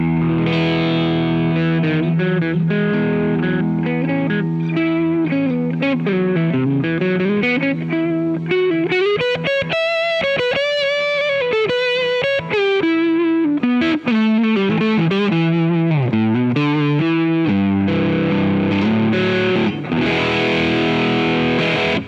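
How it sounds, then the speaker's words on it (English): An overdriven Kauffmann '59 SC electric guitar on its middle pickup, with a rounded tone, plays bends and long sustained notes, loud and up front, with no talking. "let's try the same with what it sounds like in the middle position"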